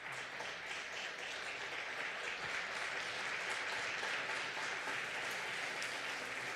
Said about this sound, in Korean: 우리 일어서시면 힘차게 우리 환영의 박수로 우리 사모님을 맞이하겠습니다.